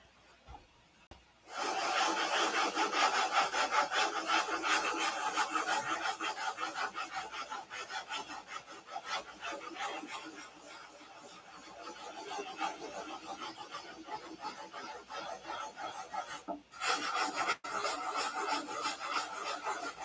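Hand sanding on wood, a continuous close scratchy rasp of abrasive strokes that starts abruptly and keeps up a busy back-and-forth rhythm, with a couple of short pauses near the end.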